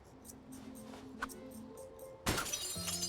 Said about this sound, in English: drop this brick into the glass